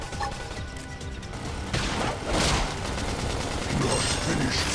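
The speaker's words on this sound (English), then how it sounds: "Flame grenade." A flame grenade goes off in Xenoblade Chronicles X Definitive Edition, a loud broadband blast followed by a second roaring burst of fire and crackle over a continuous bed of battle noise.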